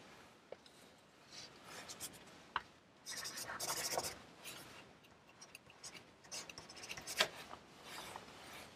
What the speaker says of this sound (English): I'm now going to sign my drawing in the professional manner